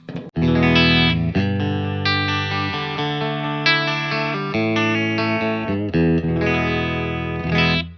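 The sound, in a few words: clean electric guitar tone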